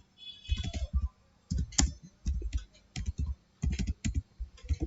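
Quick bursts of clicking keys on a computer keyboard as a GitHub repository description is typed, short flurries separated by brief pauses, close and clear with no talk.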